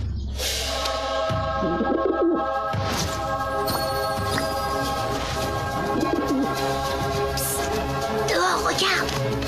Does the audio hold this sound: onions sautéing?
no